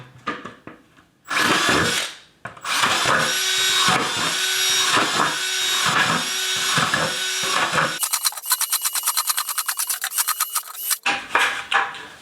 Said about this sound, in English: We also need to drill holes all in the top of this for aeration purposes.